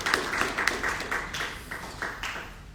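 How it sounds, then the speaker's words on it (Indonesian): Church congregation clapping for Jesus in a worship service, a moderate, slightly uneven run of handclaps with a few sharper accents, heard from some distance in a reverberant room. "Tepuk tangan yang paling meriah buat Tuhan Yesus"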